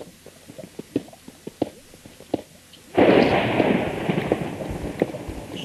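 Lava bubbling and popping in the Minecraft video game, heard first as scattered soft pops and clicks, then as a loud, dense bubbling roar that fills the second half.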